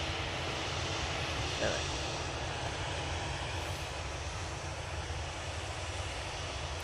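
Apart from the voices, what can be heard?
Ryanair airliner engines at Manchester Airport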